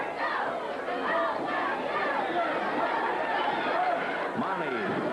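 A crowd hollers and cheers at a 1978 Big Time Wrestling match in Sacramento, a continuous loud wash of many voices with shouts rising throughout, close and full.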